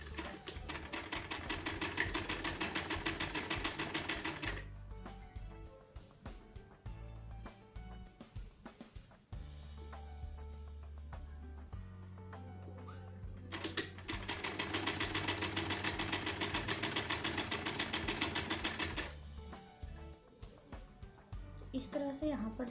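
Sewing machine stitching a fall onto the edge of a saree, running in two long bursts of rapid whirring stitches with quieter handling and pauses between, while someone talks.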